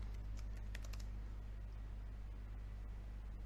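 A burst of quick keystrokes on a computer keyboard, close and clear, over a low steady hum, then a few scattered taps.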